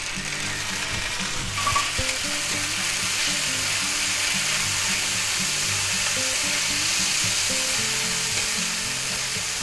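Minced garlic fries in oil in a pan for a sweet and sour pork and vegetable stir fry, giving a loud, continuous sizzle with steady crackle and faint stirring, and no talk.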